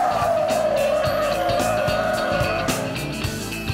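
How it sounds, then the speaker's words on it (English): Car tyres squeal loudly and steadily throughout a fast test drive, one sustained wailing screech that slowly bends lower in pitch over the steady roar of the engine and road noise. "Listen to those tyres complaining"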